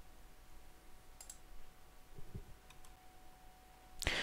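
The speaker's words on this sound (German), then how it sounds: "Ihr klickt hier drauf auf Unterschreiben." A computer mouse clicks the sign button on a petition website: a few sparse, quiet clicks in a near-silent room, with the last click sharper and louder.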